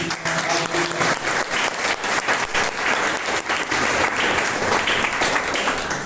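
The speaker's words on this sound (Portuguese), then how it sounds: "Você pode aplaudir o Senhor por isso?" Church congregation applauding during a Portuguese-language service, loud sustained clapping from a packed room with a faint tonal backing early on, continuous and even to the end.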